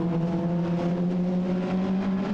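Race cars from the Mini Challenge at Snetterton circuit drone past in a pack, a continuous strained engine whine holding steady, somewhat distant and even in level.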